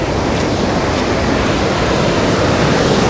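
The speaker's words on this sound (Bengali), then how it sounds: "এই যে জলটা নামছে দেখো।" Water rushes down the spillway of Salaulim Dam in South Goa, a loud, steady, broadband roar with no breaks, heard close and alone.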